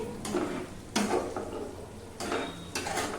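Fried pointed gourd stirred in a pan with poppy seed, cashew and raisin paste, a few scraping spatula strokes over a soft low sizzle, close by.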